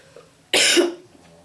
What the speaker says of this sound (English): I think I'm done coughing.